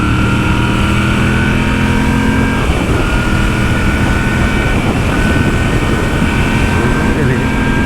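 Moto Guzzi V7 III Racer engine pulling hard after a downshift, a loud continuous drone with heavy wind rush, steady and close throughout, with a faint voice underneath.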